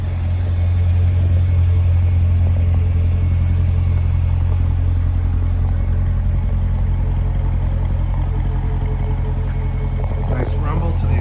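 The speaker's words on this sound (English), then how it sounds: "Nice rumble to the exhaust." A 2015 Chevrolet Corvette Stingray Convertible 3LT Z51 idles with a deep, steady exhaust rumble close by, loud and continuous throughout, with a brief higher-pitched rev near the end.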